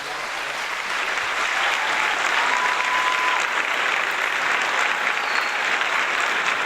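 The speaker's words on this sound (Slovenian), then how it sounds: "Dajmo en aplavz za našega župana." An audience at a festival gives a dense, sustained round of applause for a town mayor, loud and steady clapping from many hands throughout.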